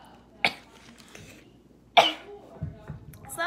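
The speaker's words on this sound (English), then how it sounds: "That cough" A person coughs after eating spicy food: two sharp, close coughs a couple of seconds apart, followed by softer throat sounds in a quiet room.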